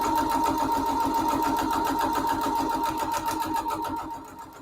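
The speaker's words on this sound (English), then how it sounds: "we're gonna sew between the line of 1 and 5" A sewing machine runs steadily for several seconds, stitching a straight seam through foundation paper piecing, its rapid even needle rhythm close and clear before slowing at the end.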